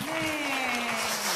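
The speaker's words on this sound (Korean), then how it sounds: "하나님 앞에 영광의 박수." A church congregation bursts into brief applause, a short dense patter of clapping that rises quickly and carries on for about a second and a half, loud and close, with a voice briefly mixed in.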